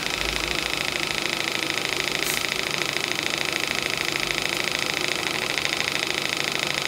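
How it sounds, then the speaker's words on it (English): A home-built Graham TVR1A steam engine runs on a home-built boiler, giving a steady, fast, even chuffing and mechanical hum that holds constant throughout with no talk over it. "Home-built Graham TVR1A engine running on a home-built boiler."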